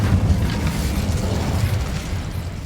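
An Incendio fire spell blasts in Hogwarts Legacy, a loud, close rumbling whoosh of flame that holds steady for a couple of seconds, then eases slightly, with no voices over it.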